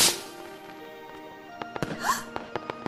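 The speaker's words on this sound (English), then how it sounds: "These fireworks are my favorite thing to do!" Cartoon fireworks in an animated pony show: a rising whistle followed by a string of sharp pops and crackles, with bursts scattered in the second half over a quiet musical background.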